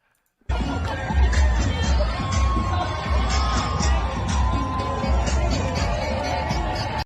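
A dense, loud crowd at an outdoor street parade in Seattle keeps up continuous cheering, whooping and chatter with scattered yells after a sudden start.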